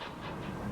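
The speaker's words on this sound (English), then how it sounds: "The Steptoe Valley Flyer train set enters the Y." The Steptoe Valley Flyer train set, a historic railway in a Nevada copper-mining town, enters a wye track with a steady low rumble and rolling rail noise, continuous and moderately near.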